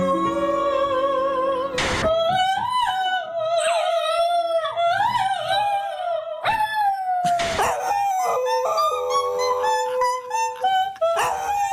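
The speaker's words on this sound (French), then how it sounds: "Nous avons les sons de votre duo entre vous et votre chien en exclusivité." A singer and her pet dog in a duet, the dog howling along with her in long, wavering, sliding tones over a musical medley, loud and close throughout, with sharp bursts breaking in at a few points.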